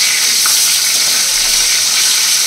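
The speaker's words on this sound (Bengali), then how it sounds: "চলো মাছগুলো ভেজে নিই" Loud, steady sizzling of fish frying in hot oil close up, a continuous bright hiss with occasional faint pops.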